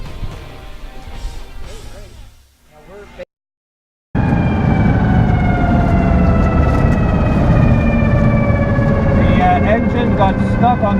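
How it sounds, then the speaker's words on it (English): A 2500 HP Lamborghini Gallardo engine stuck on the rev limiter, throttles jammed open, roaring loud and steady with a sustained high wail that holds for several seconds after a brief dropout. "the engine got stuck on the rev limiter, like as if the throttles got stuck open"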